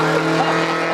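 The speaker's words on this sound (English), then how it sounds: "as well as these cars that are gonna drive into the shot" Steady, loud engine and tire noise from cars driving past on a road, a continuous rush filling the whole moment without any speech.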